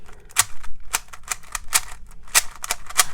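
A DaYan TengYun V2 M speedcube is turned quickly by hand, giving sharp plastic clicks and snaps in an irregular rapid rhythm, close and fairly loud.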